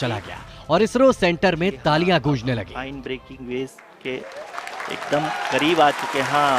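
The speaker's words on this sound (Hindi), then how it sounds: "आप तालियों के गड़गड़ाहट से सुन सकते हैं" Applause and cheering fill the ISRO centre during the Chandrayaan landing, rising in the second half as a dense wash beneath a reporter's continuous speech.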